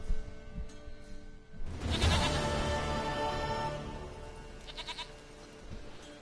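A goat bleats in The Witcher 3 video game, a loud, wavering bleat rising over steady game ambience and fading into softer background sound.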